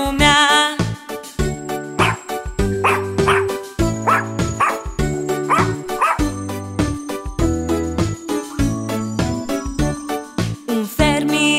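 Cartoon dog barks punctuate a bouncy Romanian children's song about the farmer's dog Bingo, repeated yapping woofs in rhythm with loud music and jingling bells throughout.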